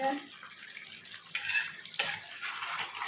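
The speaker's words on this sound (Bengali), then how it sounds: "চিকেন রান্না হচ্ছে" Chicken frying in a pan while being stirred, with a steady sizzle and clattering bursts of the utensil scraping against the pan, moderately close.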